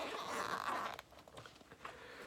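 Neoprene soft paintball marker case with two zippers being unzipped in a short, raspy pull about a second long, close up, followed by faint crinkly handling.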